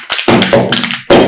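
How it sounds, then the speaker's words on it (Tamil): Loud, close taps on a bottle fall in a quick uneven rhythm, three hollow knocks in just over a second. "இப்படி பாருங்க இந்த பாட்டில் ஒரு சத்தம் இருக்கு."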